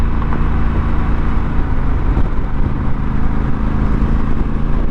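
A Honda Africa Twin motorcycle engine pulling steadily under throttle, a loud continuous drone with wind rush, heard up close from the rider's position, no talking.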